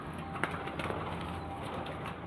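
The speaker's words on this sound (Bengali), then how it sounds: "আমি পায়রা দুটোকে ছেড়ে শখ করাই। বন্ধুরা এই একজোড়া রয়্যাল টেডি দেখুন" A pair of Royal Teddy pigeons gives off soft, low cooing against a steady background hum, with a brief louder sound near the start.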